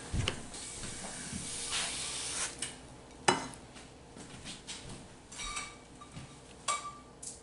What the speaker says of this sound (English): and I think the eggs are burning